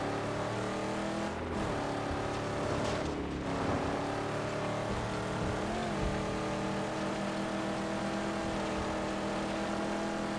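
Vehicle engine driving steadily through the wasteland of the Mad Max video game, a continuous loud drone with shifting pitch as it accelerates and turns, no talk over it.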